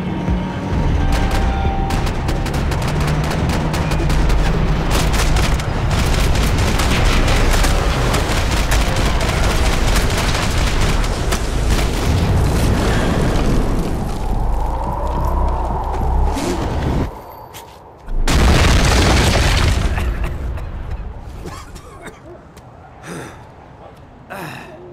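Dense bursts of gunfire rattle through a firefight in the video game Max Payne 3, loud and nearly continuous for much of the stretch before easing into sparse, scattered shots.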